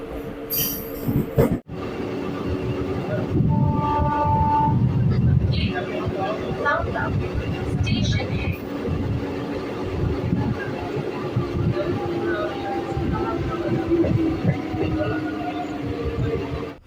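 A passenger train runs from Katwa to Barddhaman on Eastern Railway lines, its steady rolling rumble and rattling carriages filling the scene, with a sharp knock early on and occasional squealing wheels and clatter.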